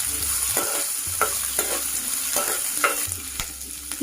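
Cashews and onion frying in a pan, with a steady close sizzle broken by repeated scraping and stirring strokes, no voices.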